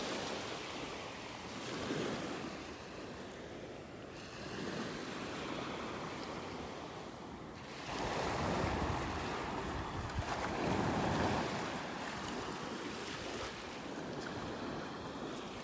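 Small, gentle waves break along a beach shore in North Naples, Florida on a calm morning, a steady wash of surf with soft swells rising and falling, brushed by light wind noise on the microphone.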